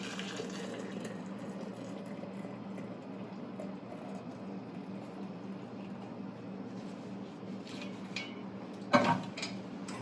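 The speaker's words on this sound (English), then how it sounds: "I'm going to go ahead and pour this into the jar so we can get a better look at it here." Homemade maple syrup, boiled down from sap, pours into a jar in a steady, soft, close trickle that stops briefly near the end with a small clink.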